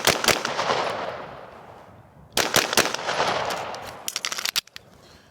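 A Smith & Wesson M&P 2.0 Competitor pistol fires sharp, loud shots in quick pairs outdoors, each report ringing out with a trailing echo, followed by a faster burst of several rapid shots.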